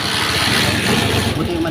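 A motorcycle engine starts after failing to turn over, then keeps running with a steady, close rumble and low rhythmic pulsing throughout.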